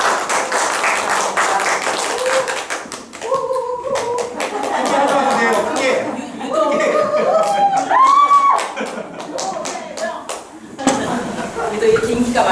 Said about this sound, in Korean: 50대 큰 박수로 우리가 맞이했죠